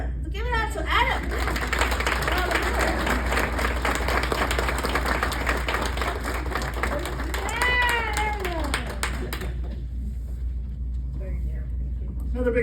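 Audience clapping and cheering at a Kiwanis fundraising comedy night as a comedian is welcomed, a dense, steady wash of applause lasting about ten seconds, with a voice rising over it near the middle before it thins out at the end.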